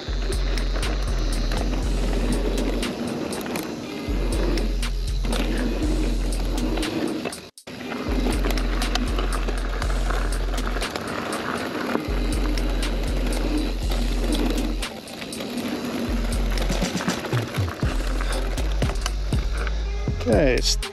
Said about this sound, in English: Drone's on active track.